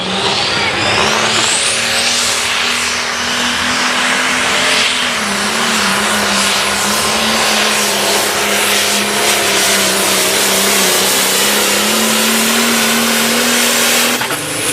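A pulling tractor at a county fair tractor pull in Illinois roars at full power, one loud sustained droning engine note that stays close and constant for the whole stretch, drowning out any other sound.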